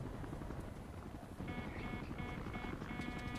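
Helicopter in the video game Battlefield Play4Free, a continuous whirring rotor and engine drone with a regular pulsing beat and rattling tones, loud and steady throughout.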